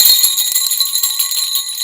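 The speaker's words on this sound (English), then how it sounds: "They're special jingle bells." Jingle bells ring continuously and brightly, a dense shimmering jangle shaken close by with a quick pulsing rhythm.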